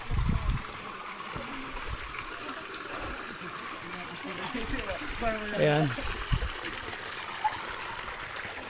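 Steady rushing water from a mountain stream at Talon Talonan Falls on Mount Makiling fills the background, with someone talking over it throughout.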